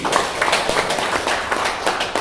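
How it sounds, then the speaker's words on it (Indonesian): A seminar audience claps together in an indoor hall, a dense, steady patter of many hands that runs on without a break and has no talk over it. "Tepuk tangan dulu"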